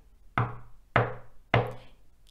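Three firm knocks on a door, spaced evenly about half a second apart, come close and clear over a quiet background, with no voices over them.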